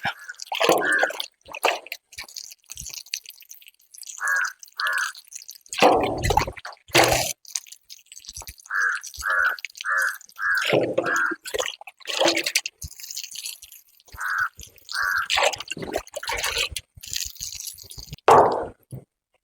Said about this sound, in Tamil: கடைசியாக தண்ணி ஊற்றுறேன்